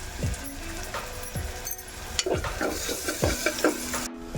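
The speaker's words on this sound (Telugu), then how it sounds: "ఈ ఆనియన్స్ని కాస్త ఫ్రై చేసుకోవాలి" Onions frying with ginger garlic paste in a pressure cooker for pav bhaji, a close moderate sizzle broken by repeated scraping stirs and spoon knocks against the pot, no voices.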